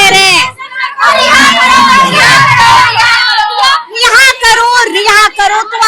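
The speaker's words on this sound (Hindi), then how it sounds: "बच्चे नारा लगा रहे हैं और चीख चीख कर कह रहे हैं" Crowd of students chanting slogans at a protest in Bihar demanding a teacher's release from jail. Loud, close group shouting in repeated bursts, with children's voices yelling together in rhythm.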